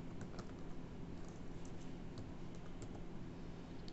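Fingers type a new record on a computer keyboard, a steady run of light, quick key clicks at close range with an even rhythm and no talk.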